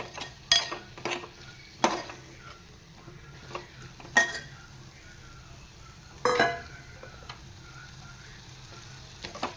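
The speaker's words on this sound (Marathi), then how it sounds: "सुरण परतवून घेतो छान म्हणजे तेलावर" Red suran (elephant foot yam) sautés in hot oil, with a soft steady sizzle under occasional close clinks and scrapes of a spoon against the pan.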